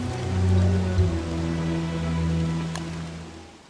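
Soft, steady rain pattering in the survival video game Don't Starve, blended with low sustained game ambience and a brief sharper tick near the end.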